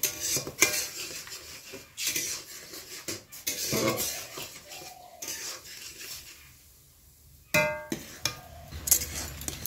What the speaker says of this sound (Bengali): চিনিটা দিয়ে তারপর এরকম করে নাড়তে হবে।